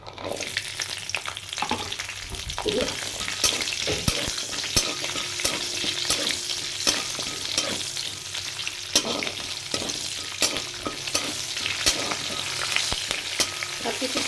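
Garlic and green chillies fry in hot oil with a continuous, bright crackling sizzle, peppered by frequent sharp pops and spatters, close and fairly loud throughout.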